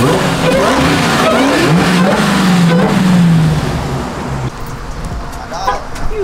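A Dodge Hellcat rolls up nearby with a deep engine rumble and a rising rev before settling, as people talk and exclaim over it.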